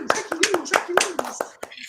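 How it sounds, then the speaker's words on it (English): A small group claps in brief, uneven bursts of applause, close up, with someone talking over the clapping. "See, there's the applause."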